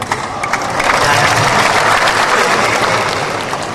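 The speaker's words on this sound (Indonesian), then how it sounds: "Jangan tepuk tangan, ini bukan gereja Pantai Costa." Dense, loud applause from a large audience at an Indonesian religious lecture in Kendari, steady crowd clapping swelling briefly and holding throughout without speech.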